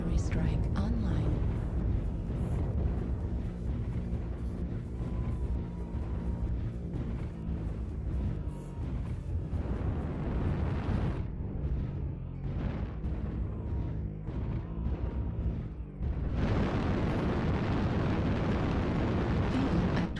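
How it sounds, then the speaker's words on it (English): Artillery strike explosions in MechWarrior Online, with heavy booming blasts rolling continuously over dense battle noise and mech machinery. A brief lull comes before a fresh loud barrage, and a synthetic voice speaks at times. "Target acquired. Artillery strike online."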